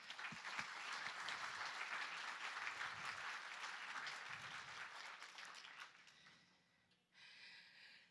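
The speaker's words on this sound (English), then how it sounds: "Let's give them a round of applause, please." Audience applause at an agriculture technology conference, a fairly faint, steady patter of many hands that thins and tapers off, followed by a brief murmur.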